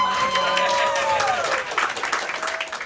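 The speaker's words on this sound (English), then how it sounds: "let's clap for him" Comedy club audience applauding and cheering after a comedian's jab at a heckler, a dense wash of clapping that starts loud and gradually thins out.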